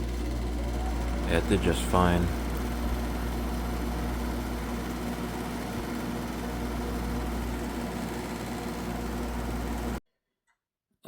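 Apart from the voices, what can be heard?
window air conditioner compressor starting and running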